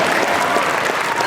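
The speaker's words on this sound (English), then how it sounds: "it's applause" Crowd applause at a convention panel during Phoenix Comicon 2013, a dense continuous wash of many hands clapping, loud and steady throughout.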